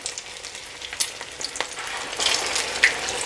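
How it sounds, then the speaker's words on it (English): Potato and mince cutlets (aloo keema tikki) frying in a pan with a continuous crackling sizzle and bursts of popping oil, close and fairly loud, with no voices. "we're going to fry these for about 2 minutes on each side"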